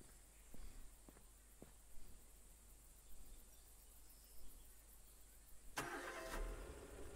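A car engine starts in the resort-management video game Hotel: A Resort Simulator, with a few soft clicks, then a sudden louder crank and idle rising near the end over a faint background of crickets.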